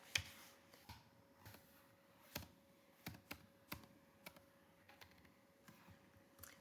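Sparse, quiet keystrokes tap on a computer keyboard at an uneven pace, several clicks spaced out over a few seconds.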